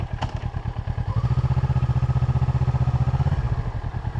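Motorcycle engine on a learner's A2 licence slow-riding course, revved in quick, even throttle blips that pulse steadily for several seconds, close and loud, with no talk over it.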